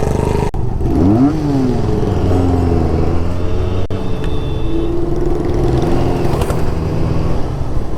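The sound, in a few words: motorcycle engine and exhaust while riding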